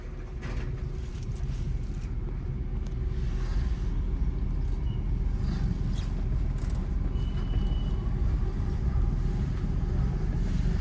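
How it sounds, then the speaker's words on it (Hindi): A car creeps forward slowly on a light accelerator during a beginner driving lesson, giving a steady low engine and road rumble that stays even throughout with no one talking. "अब देखो ये विदाउट एक्सीलेटर गाड़ी चल रही है, आपने हल्का सा एक्सीलेटर ले रखा है, चलते रहो धीरे धीरे।"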